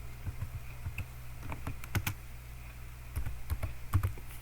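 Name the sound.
typing on a computer keyboard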